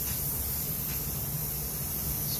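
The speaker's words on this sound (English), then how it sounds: "spray it uniformly until you see it's like a liquid that have formed on top of the build plate" Hairspray hisses in a steady, close, continuous spray onto a heated glass 3D printer build plate, a loud unbroken blast lasting the whole moment with no talking.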